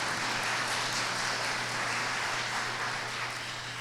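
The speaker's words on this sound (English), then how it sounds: "yes, you can applaud for Mr." Audience in an auditorium applauding for Mr. Rousselle at a Plaquemines Parish debate, a dense, even spread of clapping that holds steady and eases slightly toward the end.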